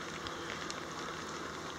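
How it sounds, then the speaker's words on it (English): Rain falls steadily at a desert trailhead in Joshua Tree National Park, a dense, even patter with scattered nearby drops and no voices. "It's still raining."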